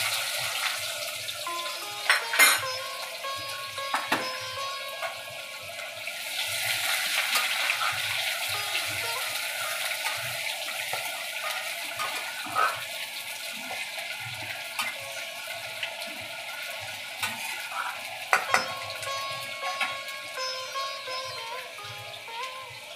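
A small onion sizzles in hot spiced oil, a steady close crackle and hiss with occasional clinks of stirring throughout.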